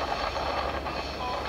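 The Ravi Express passenger train runs along a branch line through eucalyptus forest between Lahore and Nankana Sahib, a steady close rumble of wheels and carriages with no voices.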